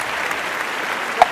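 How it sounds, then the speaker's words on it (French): An audience applauds as a continuous soft wash of clapping, with one sharper clap standing out near the end. "Applaudissements s'il vous plaît."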